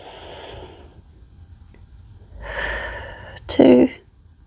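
Deep breathing during yoga rounds on a calisthenics routine: a soft inhale, then a louder gasping breath and a sharp snort-like exhale close by, with faint background.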